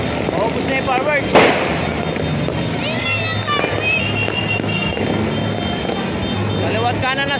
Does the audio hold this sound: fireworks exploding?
yes